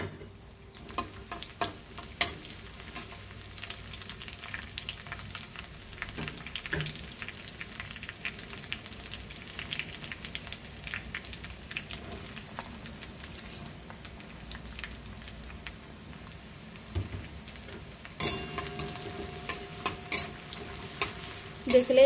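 Chopped garlic, ginger and chili fry in oil in a pan with a continuous soft sizzle and crackle, broken by scraping stirs and clinks that grow louder near the end, with no talking.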